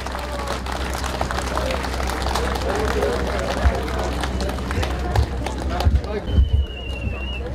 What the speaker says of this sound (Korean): 여러분 큰 박수로 저분의 만수무강을 기원해 주시기 바랍니다.